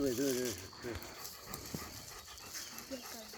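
Tired dogs pant rapidly nearby on a forest walk, with a brief whine at the start and outdoor background noise underneath.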